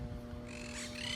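A Quaker parrot near nesting birds gives a short, rough squawk, fairly faint over a steady outdoor hum.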